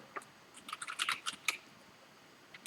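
Close, crisp typing on a computer keyboard for writing code: a burst of irregular, quick clicks in uneven clusters, with the busiest stretch in the middle and a few isolated taps near the end, heard alone with no talking.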